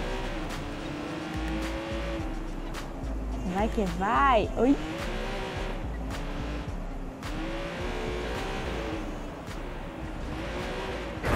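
A car engine in Watch Dogs 2 hums steadily and revs up with a brief squeal of tires midway, mixed with game music while someone talks over it.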